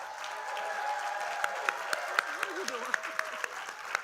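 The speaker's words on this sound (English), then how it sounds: "the clap was good" Audience at a football head coach's introductory press conference clapping in sharp, spaced, rhythmic claps, a brief rhythmic burst over a low crowd murmur with a voice nearby.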